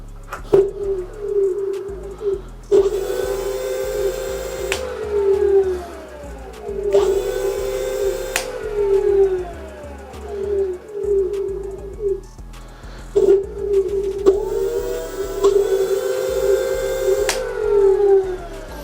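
Drum brake on a Dualtron Mini electric scooter rubbing slightly as the wheel spins, a repeating whirring hum that rises and falls in several spin-up and coast-down cycles, each with a faint rubbing tone.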